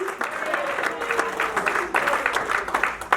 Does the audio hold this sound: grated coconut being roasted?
no